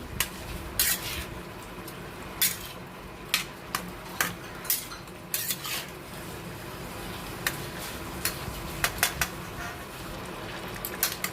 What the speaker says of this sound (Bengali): আবার কিন্তু আমি নাড়ছি, এখনও বেশ ভাজা ভাজাটা আসেনি, তাই এখন আমি নেড়েই যাচ্ছি।